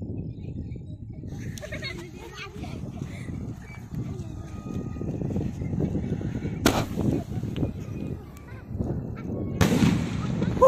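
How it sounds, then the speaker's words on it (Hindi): A Ravindra Fireworks Crazy Girl sky shot goes off at an outdoor firework test, with two sharp loud bangs rising above a steady rumbling crackle and background noise. "अब इग्नाइट करते हैं रविंद्र फायरवर्क के क्रेजी गर्ल स्काई शॉट को"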